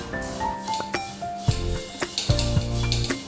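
Sugar being stirred into a pan while making kunafa, with a spoon scraping and clinking against the metal in uneven strokes, close and clear, over a light background hum.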